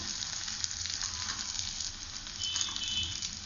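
Cauliflower florets for gobi manchurian sizzle steadily as they fry a second time in hot oil, a close, dense crackling hiss that carries on without pause and no talk.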